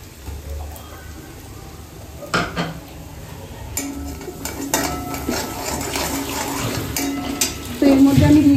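Leftover coconut pulp, squeezed of its milk, going into hot oil in a pan while cooking daab chingri, with a few sharp clatters of a utensil and a rising, close frying hiss toward the end.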